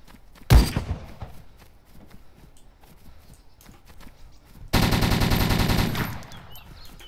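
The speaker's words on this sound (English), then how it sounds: "There's like a sniper fight going on." Sniper gunfire in DayZ: one sharp loud rifle shot near the start, then a dense roaring burst of rapid fire lasting over a second, with quiet game ambience between.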